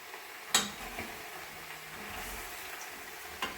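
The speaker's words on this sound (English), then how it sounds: "You hear this sizzling just a little bit." Chopped vegetables sizzling gently in oil in a stock pot, a soft steady crackle with a couple of sharp clinks from a utensil against the pot, close and fairly quiet.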